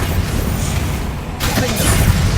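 Bombardo blasting spell in the Hogwarts Legacy video game, a loud rumbling burst that swells midway and lingers, with faint voices in the background.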